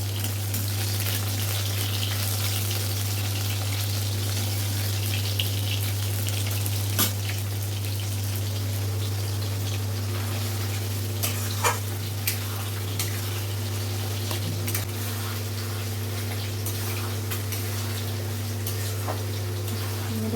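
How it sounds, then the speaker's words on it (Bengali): Ginger and garlic paste fries gently in a pan, a soft, steady sizzle over a constant low hum, with a few faint clicks of stirring scattered through. "এবারে আদা রসুনটা দেওয়া হয়ে গেছে, একটু কষিয়ে নেবো।"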